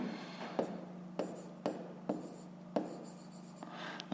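Pen writing on paper while working a fifth-grade maths exercise, close scratchy strokes in short bursts separated by brief taps and pauses, with no talk.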